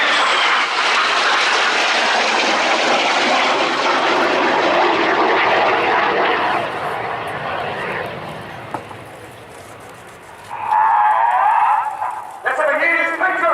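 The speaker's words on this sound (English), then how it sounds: "7 jets with smoke on, forming an inverted V shape" Red Arrows jets of the Royal Air Force roar past in formation at the RIAT 2016 air display, a loud sustained jet rush that slowly fades, followed by a nearer engine surge at the end.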